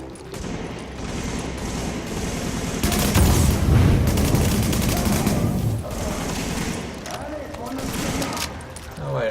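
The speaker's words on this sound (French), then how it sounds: "Les explosions sont vraiment magnifiques." Gunfire and explosions in The Division video game, bursts of rapid shots and heavy booms in a dense, loud stretch, with someone talking over the action.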